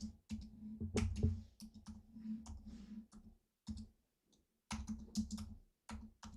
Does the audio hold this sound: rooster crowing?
no